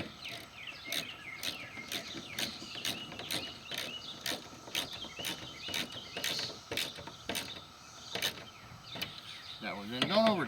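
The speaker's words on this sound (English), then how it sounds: "And then what we'll do is start these screws." Screws being driven by hand into plastic while installing old-school Chevy mirrors, heard as a steady run of small ratcheting clicks close by, with a little talking near the end.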